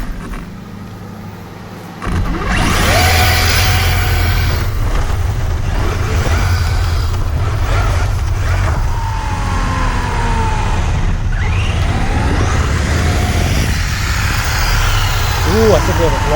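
An Arrma Mojave RC truck on street tires ripping down a road, a sudden burst of high-pitched electric motor whine that keeps surging and rising in pitch, loud and close, with people talking over it.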